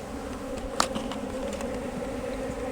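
Honey bees robbing a beehive create a steady, fairly faint buzzing hum, with individual bees droning past close by now and then.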